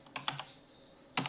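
Computer keyboard keys tapped while entering a Linux terminal command: a quick run of three or four soft clicks, a pause, then another keystroke, close and quiet with no talking.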